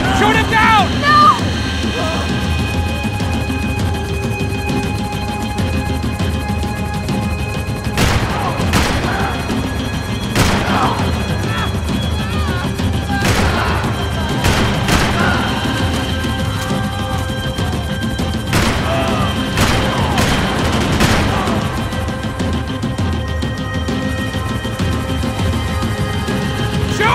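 Gunfire from the video game Max Payne 3: a dense, continuous game soundscape with repeated sharp bursts of shots and impacts over music and effects, with shouting voices mixed in.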